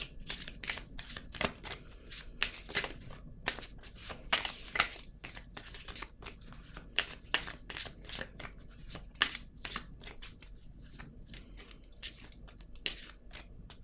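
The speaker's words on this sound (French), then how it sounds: "Je vais prendre une carte rose." Cards drawn and placed in a tarot-style card reading: rapid, close, crisp card flicks and slides in irregular bursts over a quiet background, with no talking.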